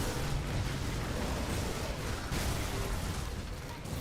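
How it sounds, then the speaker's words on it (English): Explosions burst continuously in the action game Grim Dawn, a dense, rumbling barrage of blasts and crackling debris that stays loud and unbroken throughout. "Don't kill me with explosions"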